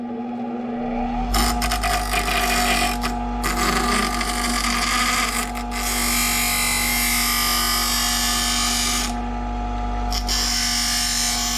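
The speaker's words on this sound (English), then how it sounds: "For the grinder, let's make it roughly the right shape." Grinder shaping a metal patch piece for a 1961 VW Beetle pan repair, whining in several long bursts with brief pauses between, loud and close over a steady background hum.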